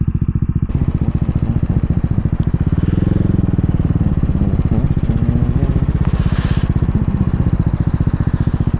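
A 2022 CCM Spitfire Bobber motorcycle rides along a dual carriageway, its single engine thumping steadily and loudly throughout, with no talk over it.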